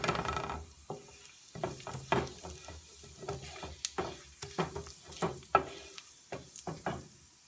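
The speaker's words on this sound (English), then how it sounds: "Here goes the 1 teaspoon of zira, that's the cumin seeds, and then cook for about few seconds." Cumin seeds spluttering in hot oil with green cardamom in a pan for paneer korma, a quiet run of sharp irregular pops and crackles over a faint sizzle.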